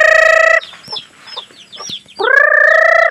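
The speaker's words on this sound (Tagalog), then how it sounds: "Nasaan kaya ang ibang manok?" Chickens on a small Philippine farm cluck and squawk close by, with a loud sustained rooster-like call at the start and again at the end and softer clucks in between.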